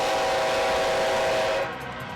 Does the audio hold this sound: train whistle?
yes